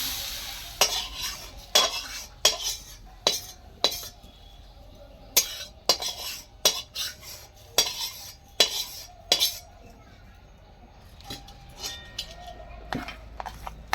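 Spices being mixed into rice for Bengali basanti polao: a run of sharp metal spoon clinks and scrapes against a pot, close and irregular, over a faint sizzle, then thinning out toward the end, with no talking.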